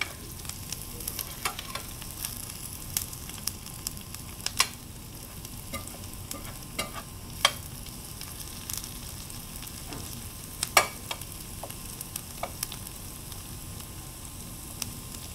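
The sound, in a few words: onions and garlic sizzling in browning butter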